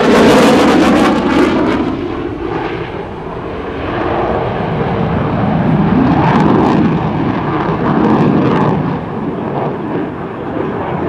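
F/A-18C Hornet jet roaring past during an airshow demonstration at NAS Oceana, a loud, rumbling engine roar that swells, eases and builds again over several seconds.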